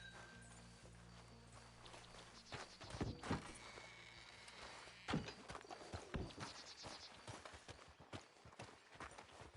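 Horse hooves clip-clop as riders rein in and stop in the video game Red Dead Redemption 2. Irregular hoof thuds of several horses slow and settle over low ambient game sound, with a few heavier stamps midway.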